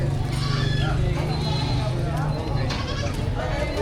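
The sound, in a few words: goat bleating at a livestock market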